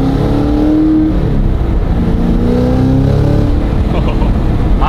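A 1,000-horsepower Cadillac's engine runs steadily and loudly from inside the car, its pitch rising and falling through revs over about five seconds with no break.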